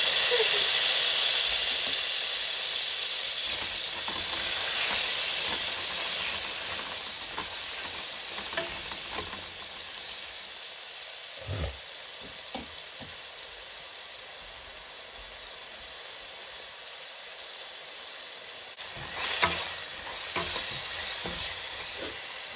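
Cooking wine poured into a pot of lamb and lentil stew brings a broad, loud steamy sizzle and hiss that holds steady and then eases slightly, with some stirring noise and faint background voice.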